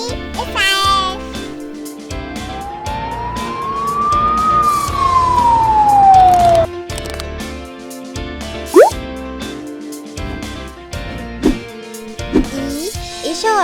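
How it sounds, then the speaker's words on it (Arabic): An ambulance siren rises and falls in one long wail over a children's learning song, loud and close, followed by music and short cartoon sound effects. "إسعاف."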